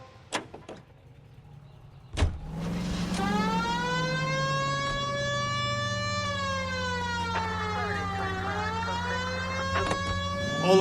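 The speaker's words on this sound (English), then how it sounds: "We have a siren." Police car siren in the L.A. Noire video game, wailing loudly and continuously after a few clicks and a thump, its rising and falling tone steady under a low engine hum with no talk.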